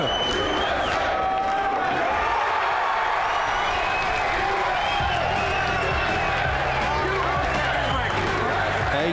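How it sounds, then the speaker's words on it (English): A large crowd at the 2017 Mosconi Cup 9-ball pool event roars and cheers with scattered clapping, a dense sustained swell of voices and whistles, loud and continuous throughout, with some talk in the mix. "Wait until you hear the crowd roar when this 9-ball goes in."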